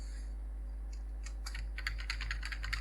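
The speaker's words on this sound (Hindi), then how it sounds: "नेक्स्ट लाइन से टाइप करने के लिए आपको कीबोर्ड से एंटर प्रेस करना है" Quick keystrokes on a computer keyboard, including presses of the Enter key, tapping in a rapid irregular run close by over a constant low hum in a quiet room.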